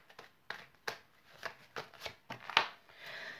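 A deck of tarot cards is shuffled close by, with quiet, crisp riffles and slaps arriving in an uneven rhythm, soft and unaccompanied.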